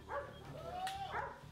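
A dog whimpers and gives a soft yip during training: faint, thin whines rising and falling over a low background hum.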